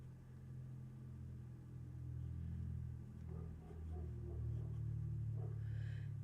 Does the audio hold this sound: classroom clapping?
no